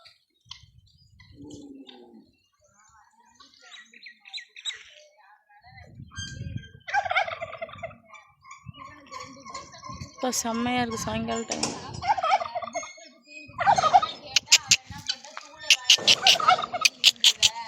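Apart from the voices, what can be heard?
turkey gobbling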